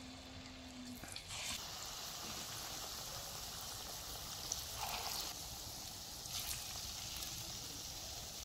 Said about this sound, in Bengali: আর এইভাবে করে আমি সব সিঙ্গারাগুলো ভেজে নেব।